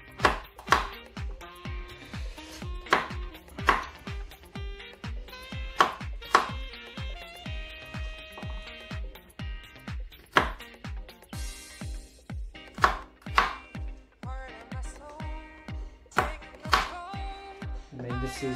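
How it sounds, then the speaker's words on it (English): A knife chops garlic on a cutting board in steady, crisp taps, repeated dozens of times at a brisk even rhythm, close and clear with no talk. "I'm just going to cut my garlic up a bit and get that in."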